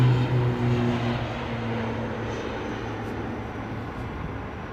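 A propeller airliner at London Heathrow Airport drones steadily with a low tonal hum and broad roar, loudest at the start and easing slightly as it continues, no voices over it.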